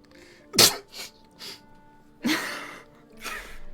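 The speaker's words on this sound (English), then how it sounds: "You just sneezed on the teacher." A sharp sneeze bursts out, followed by a few softer breathy gasps and another forceful exhale, close and fairly quiet overall.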